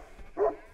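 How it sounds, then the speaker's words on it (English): Large mastiff guardian dogs at a vineyard give a single short, loud bark, close by with no talk over it. "They're barking."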